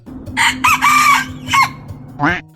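A rooster crows loudly and close by, in several drawn-out phrases, ending with a short clucking call.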